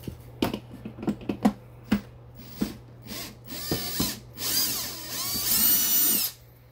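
Screwdriver working screws out of a Bissell ProHeat Essential carpet cleaner, a run of close clicks and ratcheting ticks followed by a louder whirring, grinding stretch near the end, with no talking.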